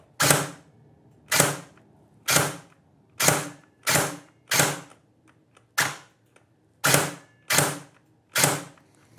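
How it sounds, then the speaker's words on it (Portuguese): A Silverback MDR-X airsoft rifle fires semi-automatic single shots, about ten sharp cracks spaced roughly a second apart, loud and close, with quiet mechanical clicks between them. "E agora eu vou efetuar uns disparos no semiautomático."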